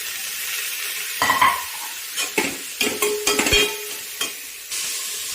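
Tomato dropped into sizzling tempering for veg pulao, a soft hiss broken by a run of sharp stirring clatters and spoon knocks against the pan, up close.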